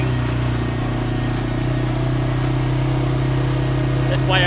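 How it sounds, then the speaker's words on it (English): A four-wheeler ATV engine drones steadily at close range while riding beside a pond, a continuous mid-pitched rumble that holds even with little change in revs. "That's why I already have a lot of miles on my four-wheeler."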